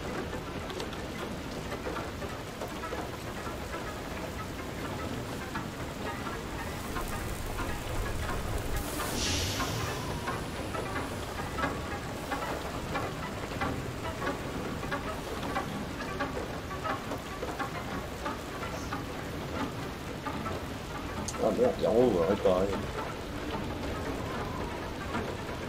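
Hail shower in the video game FAR Lone Sails, a continuous, fairly loud patter of hailstones with a brief swishing sweep partway through and a short mechanical clank near the end.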